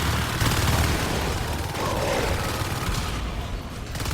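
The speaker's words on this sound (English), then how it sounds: "Grenades going off everywhere." Grenade launcher explosions during a team assault on an alien hive in Natural Selection 2, a dense, continuous roar of blasts and gunfire layered over each other without pause.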